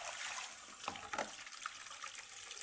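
Murky backwash water pours out of a water filter tank at a drinking water depot, a soft, steady splashing gush with faint trickles, fairly quiet and without speech.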